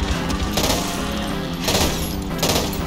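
Gunfire rattles through a zombie shooter game, Back 4 Blood, as dense, loud bursts of automatic fire overlap one another for the full stretch.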